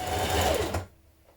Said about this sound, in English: we're going to stitch it all the way down the length